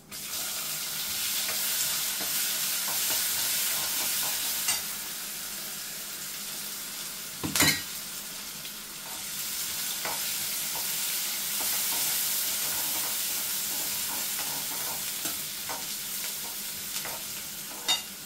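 Finely chopped onion dropped into hot oil with asafoetida, crackling and sizzling steadily with scattered stirring scrapes and one sharp clank midway, close and moderately loud without speech.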